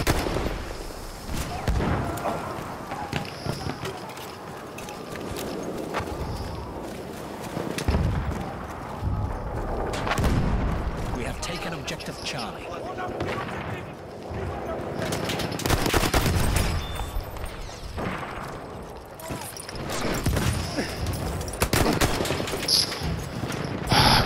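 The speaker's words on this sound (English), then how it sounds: "Mitrailleuse ennemi, par là!" On the Fort de Vaux map in Battlefield 1, an enemy machine gun fires in long, loud bursts. Other gunfire and battle noise swell and fade over more than twenty seconds, and voices talk now and then.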